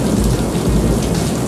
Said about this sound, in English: When the heavy rain falls on the plains,